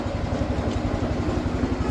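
A Swaraj tractor's diesel engine runs steadily with an even low rhythmic chug, close and continuous throughout, no voices.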